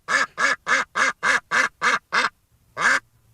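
A duck quacks eight times in quick, even succession, pauses, then gives one more quack, each call loud and close.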